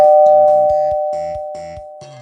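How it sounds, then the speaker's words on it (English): A doorbell rings with a loud, clear chime. Its tone keeps sustaining as a quieter sequence of tones rises and falls, the whole ring slowly fading with no voices. "The doorbell rang."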